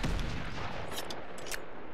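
Gunfire and explosion sounds from Uncharted: Among Thieves, a dense, continuous roar of blasts and shots with sharp crackling bursts around the middle, loud throughout and with no talk.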